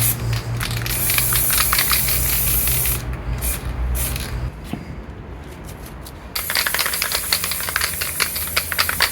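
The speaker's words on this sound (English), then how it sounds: "I'm not super wild about this adhesive spray" Adhesive spray hisses onto a stencil in a loud, close, continuous blast. It breaks off briefly with a few small clicks, then starts up again strongly.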